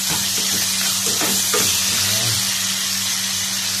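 Garlic, onion and tomato sauté in a hot pan with a steady loud sizzle, while a few soft stirring scrapes and clicks sound near the start.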